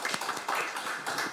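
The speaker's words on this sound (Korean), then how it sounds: "박수로 모시겠습니다." A small audience at a public hearing on prosecution reform gives a short, fairly faint round of scattered clapping to welcome a lawmaker to the panel.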